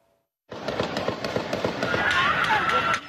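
Rapid gunfire rings out during an Independence Day street parade in a suburb of Chicago, a fast burst of sharp cracks and echoing bangs after a brief silence, with crowd noise and shouting mixed in.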